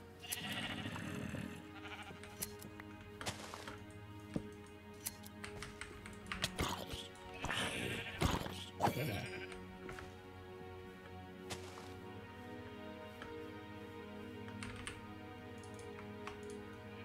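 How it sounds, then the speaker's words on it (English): Sheep bleat a few times in Minecraft over quick computer keyboard typing and clicks, the bleats mid-loud against a steady game background. "Oh, I think I see a sheep."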